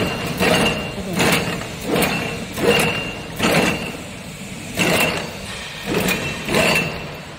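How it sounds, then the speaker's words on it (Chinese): A barbed wire making machine running, giving a repeating mechanical clank and swish roughly every second, loud and steady with no voices. "手动启动机器"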